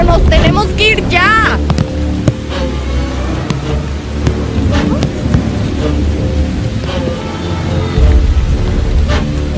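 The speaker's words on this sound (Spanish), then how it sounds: "está empezando a llover" Rain beginning to fall outdoors in Tabasco, a dense continuous hiss at loud level with occasional low rumbles, while a voice briefly sounds over it near the start.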